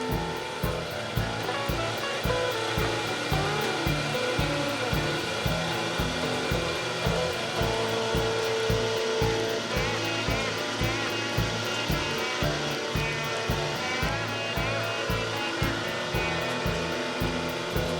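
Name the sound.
meat grinder grinding venison sausage mixture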